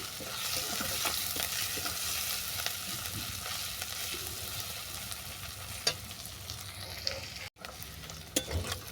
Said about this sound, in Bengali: রসুনের সঙ্গে আদা পেঁয়াজটা ভালো করে কষিয়ে নিয়েছি